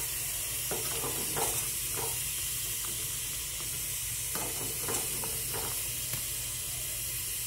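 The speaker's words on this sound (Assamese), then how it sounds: "এতিয়া মাংসটো বইল কৰি আছোঁ মই" Pork cooking with dhekia fern greens in a pot gives a continuous steady sizzle and hiss with intermittent bubbling pops and faint stirring clinks, moderately loud and close, with no voices.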